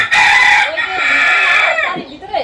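A hen calls loudly and close by, a drawn-out squawking cluck lasting about two seconds.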